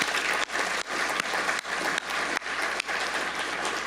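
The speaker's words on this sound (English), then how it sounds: "let's give them again a round of applause" An audience at a public forum on northern waterfront economic development gives a sustained round of applause, thick clapping with brief dips, no speech over it.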